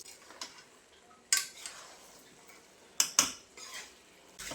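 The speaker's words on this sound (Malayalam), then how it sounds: "നല്ലതുപോലെ മിക്സ് ചെയ്യാം." Fried chicken being stirred into chicken biryani in a pot: a spoon scrapes and clinks against the metal in a few sharp, separate strikes, with quiet rustling between them.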